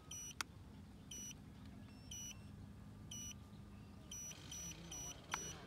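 A boat's remote control gives a series of short, high electronic beeps during compass calibration, evenly spaced about a second apart and then a quicker cluster of three, over a low background hum.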